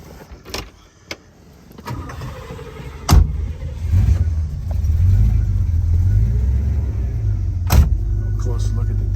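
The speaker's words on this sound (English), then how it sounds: "should we fire it up and go for a ride around the block?" A 1967 Chevelle Malibu engine cranks over around three seconds in and settles into a steady, loud low rumble at idle, following a few sharp door clunks.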